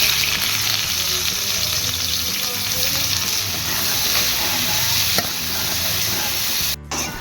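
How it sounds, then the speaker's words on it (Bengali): Chopped onions fry in hot oil with a steady, loud, close sizzle that runs throughout, broken by occasional stirring scrapes and a brief pause near the end. "এটার মধ্যে এবার কোঁচানো পেঁয়াজগুলো আমি ভেজে নেব"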